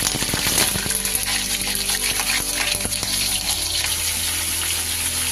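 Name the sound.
chicken pieces frying in hot oil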